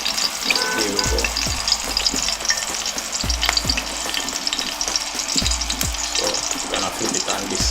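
Green banana frying in its skin in a hot pan for a Jamaican dish, with a steady loud sizzle throughout and several sharp knocks and scrapes of utensils against the pan.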